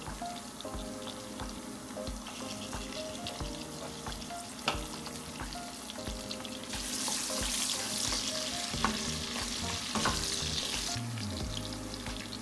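Garlic, red pepper flakes and basil stems fry in oil for a tomato sauce, a soft steady crackle with occasional utensil clinks, the sizzle swelling louder in the second half, no talking.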